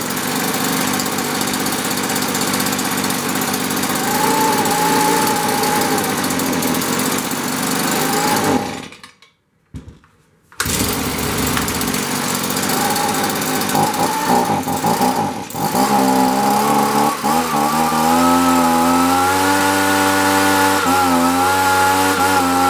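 A Stihl BG65 two-stroke leaf blower engine runs loudly at a high, steady rev, cuts out briefly, then restarts and settles into a fast, buzzing idle that is too fast.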